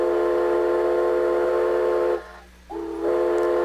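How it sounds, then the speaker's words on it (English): A steam train whistle from a sound puzzle in the Myst video game: a loud, steady, chord-like tone that drops out briefly and returns at a different pitch, with no talking. "That's an actual train whistle and not the same as what we were calling a train whistle."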